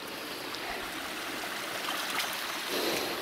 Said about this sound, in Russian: Ну, вот так вот она идет, водичка.